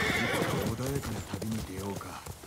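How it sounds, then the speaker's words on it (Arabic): A horse in the video game Ghost of Tsushima neighs loudly and close by, a high whinny followed by several shorter snorting calls, with clip-clop hoofbeats underneath. "طيب دي الحصان"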